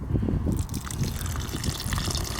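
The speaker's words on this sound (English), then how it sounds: "So I got rice, we need to add a little bit of water." Water pours steadily into a pot of rice beside a campfire outdoors, a continuous close trickling gush that runs throughout with no talk.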